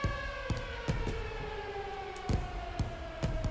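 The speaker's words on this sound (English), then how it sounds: "that's the kind of siren that'll make you want to turn down your sound effects" A civil-defense-style siren in a baseball video game wails loudly and without a break, its long tone sliding slowly downward, while sharp knocks land now and then.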